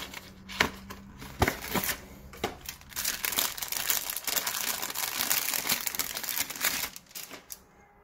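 A Spigen Rugged Armor phone case for a Samsung Galaxy Note 10 Plus comes out of its packaging with loud, close plastic and paper crinkling, tearing and rustling that runs almost continuously.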